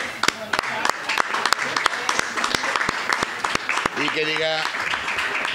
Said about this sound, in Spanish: un gran aplauso para Arthur